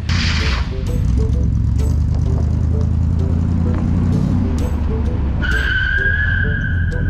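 A car reverses hard and skids through a parking-lot driving test, its engine loud and close under rough tyre noise, ending in a sustained high tyre squeal over the last second and a half, with a voice faintly mixed in.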